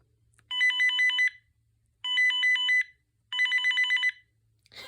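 A 2000s General Electric analog cordless phone plays its electronic ringtone in three clean bursts of rapid warbling beeps, each about a second long with short gaps between them, loud and close with no talk.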